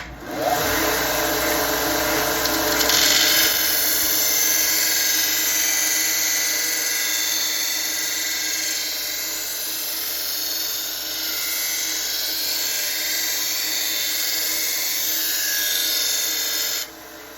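A knife blade is pressed against an electric sanding belt machine, giving a continuous high whirring grind that runs steadily and loud for the whole stretch, with slight swells as the blade moves across the belt.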